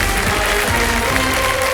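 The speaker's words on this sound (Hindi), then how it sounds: "तालियां बज जाए इसके लिए" Studio audience on the KBC quiz show breaks into applause, dense continuous clapping throughout at a steady, loud level with no talk.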